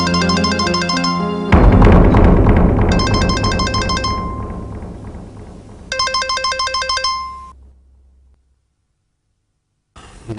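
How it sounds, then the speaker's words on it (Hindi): A mobile phone ringtone repeats its bright melodic pattern in several bursts, with a fuller swell of music between them, from a scene in an Indian family-drama TV serial; no one speaks. "बोलो सानिया, क्यों फोन किया?"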